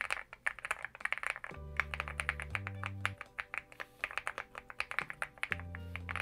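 Rapid clacky keystrokes from a LEOBOG HI75 mechanical keyboard, typed in bursts with a steady tapping rhythm over soft background music.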